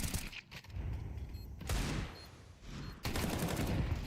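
Bursts of rapid gunfire from a Counter-Strike 2 match between Falcons and Astralis, loud, dense volleys rattling in three waves with short lulls between them.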